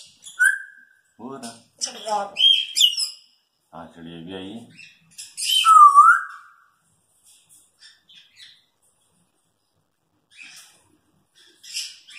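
An African grey parrot mimics a pigeon, giving a few short chirps, whistles and cooing, croaky calls in separate bursts with quiet gaps between, close to the microphone.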